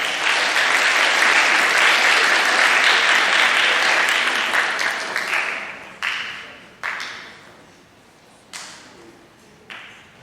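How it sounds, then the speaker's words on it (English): An audience at a school awards ceremony applauds loudly and steadily, then the clapping thins and fades, leaving a few last isolated claps ringing out. "let's give them a round of applause"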